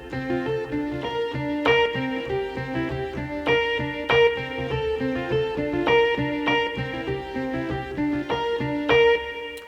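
Right-hand keyboard chords playing a soukous praise progression, bright repeated chord stabs in a steady, lilting rhythm with slight distortion, solo and close with no talking.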